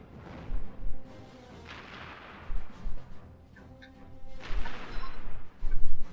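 Missile explosions in the Ratchet and Clank video game, a few loud booming bursts with crashing debris between quieter stretches, and no one talking.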